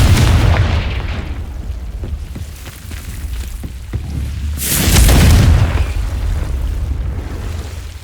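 A booming Confringo explosion spell from the Hogwarts Legacy video game erupts amid game effects, with a heavy low blast rising around the middle and lingering rumble, loud and close.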